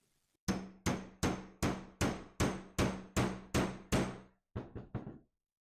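A hammer taps a rivet during pinball machine repair: about ten sharp ringing taps in a steady rhythm, then a short pause and three quicker, lighter taps, close and loud.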